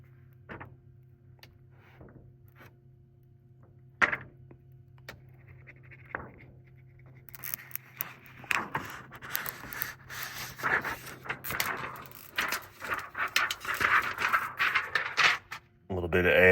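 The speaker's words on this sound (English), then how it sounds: "I'm going to take this back screen off by peeling that off" Backing film being peeled off a Spigen matte screen protector for a Tesla Cybertruck, a few light clicks and taps followed by a long crackling, rustling peel up close.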